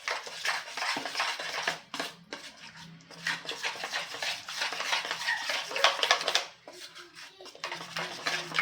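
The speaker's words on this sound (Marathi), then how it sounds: "हे आपल्याला छानपैकी असं मिक्स करून घ्यायचं आहे" A spoon stirs moong dal idli batter mixed with chopped vegetables in a bowl, giving continuous close scraping and clinking with brief pauses.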